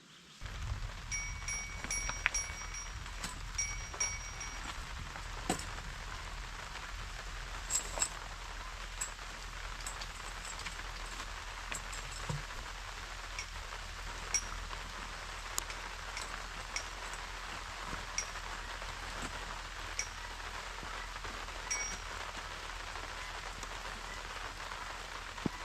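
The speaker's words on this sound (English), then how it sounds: "the sound of the rain" Steady rain pattering on a surface with scattered individual drops, a soft continuous hiss heard from close by, with no voices.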